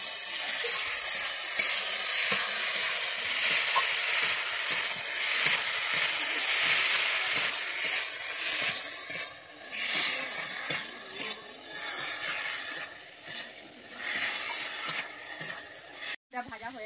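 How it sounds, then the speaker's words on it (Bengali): Fried potatoes sizzle and hiss as they are stirred into spice paste in oil for a Bengali rohu fish curry. A utensil scrapes and clatters against the pan, close up and steady throughout. "এবারে আমি ভেজে রাখা আলুটা দিয়ে দিচ্ছি মধ্যে। দিয়ে আমি ভালোভাবে কষিয়ে নিচ্ছি।"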